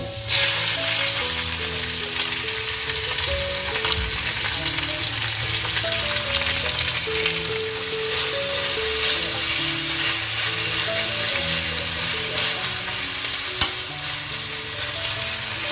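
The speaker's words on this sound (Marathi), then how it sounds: "कांदा चांगला लाल करून घ्यायचा आहे" Onion with garlic, cumin and bay leaf frying in oil, giving a loud, steady broadband sizzle that runs throughout with no talk.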